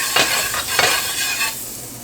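A little butter sizzles in a pan on medium heat, giving a steady close hiss broken by a few quick scraping strokes of a utensil, then easing slightly; no one speaks.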